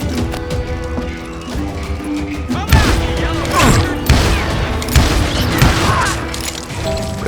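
Rapid gunfire from an enemy crowd in the Western shooter Call of Juarez: Gunslinger, sustained volleys of shots and booms over a music bed, loud and dense for the whole stretch.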